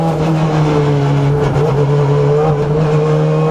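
A 2015 Honda Civic Type R BTCC race car drives at Silverstone, its engine a loud, steady droning roar heard from on board, with slight shifts in pitch throughout.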